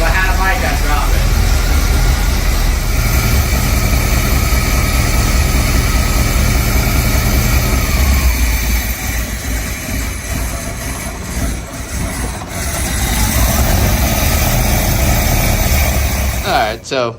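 A 1975 Chevy C3 Corvette engine running again after 15 years, fuel drawn from the tank and oil smoking off the headers, idles as a loud, steady low rumble throughout, briefly dipping midway before picking back up.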